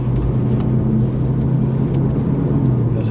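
A Ferrari GTC4 Lusso T runs a cone slalom at Inje circuit, its engine giving a steady, loud low rumble with no sharp revving peaks.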